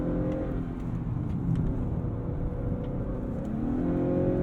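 A 2022 Honda Accord Sport 2.0T's engine pulling uphill, a steady mid-pitched drone heard from inside the cabin that rises gradually in pitch.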